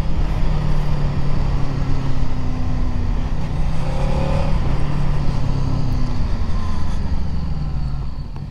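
A motorcycle rides along a road, its engine a steady, continuous drone blended with wind rush that holds even for the whole stretch and eases slightly at the end, with no talking.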